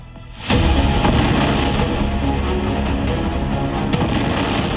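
A loud blast near the Red Fort in Delhi erupts and leaves a continuous roaring rumble, with faint sharp cracks and pops scattered through it.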